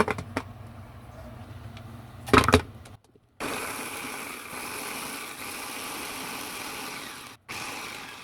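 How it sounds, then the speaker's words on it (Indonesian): After a few knocks and a short silence, a kitchen mixer grinds garlic, shallots and kencur with a steady, buzzing whir. The whir cuts out briefly and then resumes. "Setelah halus, matikan mixernya."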